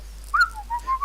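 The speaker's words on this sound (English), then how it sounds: "why the fuck are you whistling?" A person whistles a short, clear melodic phrase of a few rising and falling notes, close and alone against a quiet background hum.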